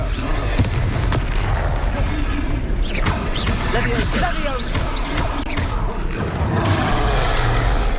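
Blasting Confringo curse explosions in the Hogwarts Legacy video game, a dense run of booming, thudding hits under a constant low rumble of battle, with voices shouting amid the chaos.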